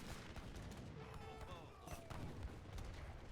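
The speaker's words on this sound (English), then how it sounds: "Look, the Musketeers are firing here nicely." Age of Empires 3 musketeers fire volleys of muskets, heard as quiet, distant crackling shots under a busy battle mix, with a voice talking over them.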